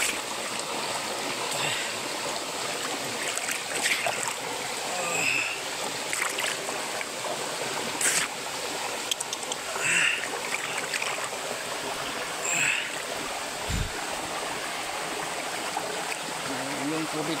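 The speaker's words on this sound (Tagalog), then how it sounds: "Busay tayo dito, busay." Steady broadband rush of a waterfall and stream pouring into a clear, clean bathing pool, continuous and close, with occasional splashes and a voice talking intermittently over the flowing water.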